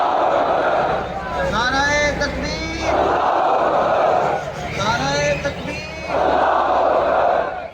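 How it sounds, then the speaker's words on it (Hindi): A large crowd at Darbar Sultan Bahu loudly chants Takbir slogans in unison, rhythmic call-and-response waves of massed voices rising and falling, with a single leading voice between the roaring responses. "लब पर नारे तकबीर की सदाएं बुलंद थीं"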